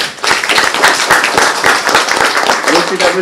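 Audience applause at a national policy competition event for winning students, a dense burst of clapping from many hands that stays loud and steady throughout.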